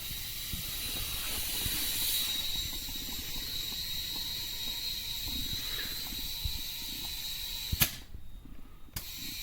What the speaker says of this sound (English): now I'm just going to put some air in it